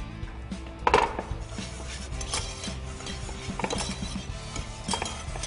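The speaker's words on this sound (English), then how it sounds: "That's why we use a whisk to get that whisked in there." A whisk works milk into a butter and flour roux for mac and cheese, a continuous busy scraping and clicking of wire against the pan, with one louder knock near the start.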